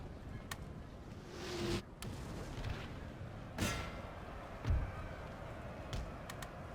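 Cannon artillery fires in Napoleon Total War, several booms and sharp cracks scattered irregularly over a steady battlefield rumble, some close and loud, others more distant.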